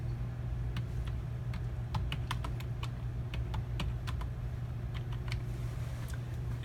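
Fast, light keystrokes tap on a computer keyboard while a sample name is entered on a Cary 630 FTIR spectrometer in a lab, irregular soft clicks over a steady low instrument hum.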